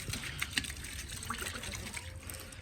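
Water runs and trickles faintly into a ducks' swimming pool as it is filled, a soft continuous splashing with small irregular drips and gurgles.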